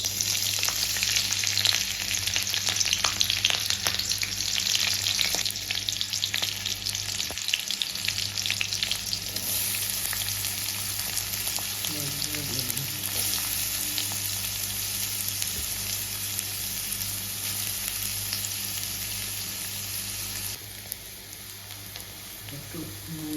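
Chillies frying in hot oil in a home kitchen pan give off a continuous close sizzle with sharp crackles and pops, and stirring noises are scattered through it.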